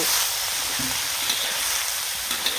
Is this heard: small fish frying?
yes